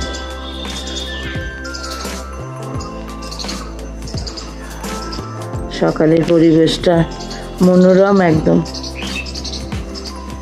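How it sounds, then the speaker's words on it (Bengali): Small birds chirp and tweet in the morning in the background while a person talks over them. "চারিদিকে পাখির কাকলিতে ভরে গেছে"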